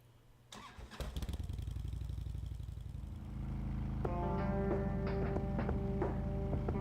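A motorcycle engine in the video game Kathy Rain cranks and fires up, revving briefly before settling into a steady, throbbing idle, loud and close.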